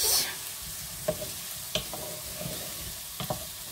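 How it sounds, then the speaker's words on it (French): Small onion pieces fry and brown in a pan, a faint, close sizzle broken by a few light scrapes and taps of a small wooden spoon. "Vous essayez de séparer les petits morceaux d'oignon un peu partout. Et vous les faites dorer."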